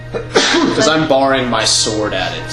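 One sharp sneeze cuts in during a tabletop game session, quickly followed by continuous close conversation between players.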